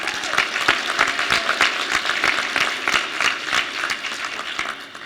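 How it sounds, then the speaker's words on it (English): A graduation audience at a high school equivalency ceremony applauds steadily throughout, a dense, sustained wash of many hands clapping in a large room. "give yourselves a round of applause,"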